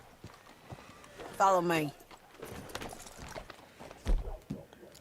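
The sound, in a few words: horse hooves from the video game Red Dead Redemption 2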